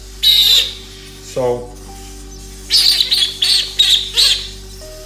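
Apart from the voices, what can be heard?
hawk-headed parrot calls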